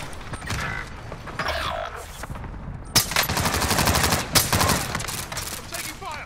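Rapid bursts of gunfire crackle in the video game Call of Duty Warzone, growing denser and louder in the second half over a busy battlefield background with some voice chatter.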